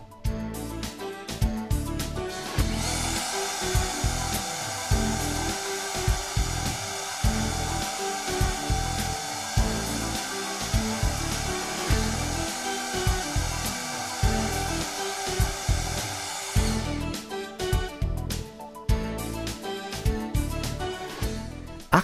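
A router guided clockwise around a Milescraft 1257 inlay template, its copy bushing pressed against the template edge, whines steadily and loudly for about fourteen seconds, with quieter handling noises before and after.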